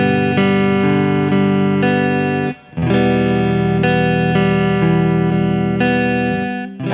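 An electric guitar with heavy distortion plays sustained chord tones in a steady rhythm. The notes are loud and close, with one brief break before the chords ring on.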